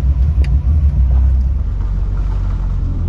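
A 1929 Ford Model A roadster fitted with Corvette parts drives around an airport, its engine a steady loud rumble with low road noise close by throughout.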